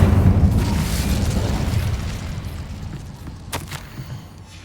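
A fire spell cast in Hogwarts Legacy bursts out as a loud booming whoosh that slowly fades, with a short sharp crackle near the end.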